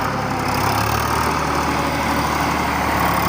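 A tractor engine runs steadily during earth-moving work in a field, with a loud, continuous diesel rumble up close and no talk over it.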